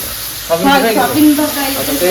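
Soybean chunks fry with turmeric and salt, a close, loud sizzle that flares up about halfway in and keeps hissing steadily to the end, with no voices.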